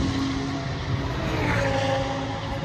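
Race cars at the 2022 24-hour Nürburgring race start make a continuous, dense engine roar that swells slightly as they pass close by, with no voices.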